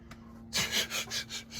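A hand saw cuts through threaded rod in a quick series of about six rhythmic strokes, close but fairly quiet over a steady background hum.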